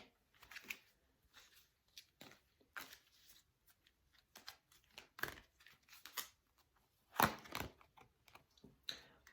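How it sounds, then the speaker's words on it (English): Cards drawn and handled from an energy card deck in a tarot-style reading, a series of crisp papery snaps, flicks and shuffles, close and fairly quiet with pauses between. "I'm going to take another card from this deck, from the energy deck."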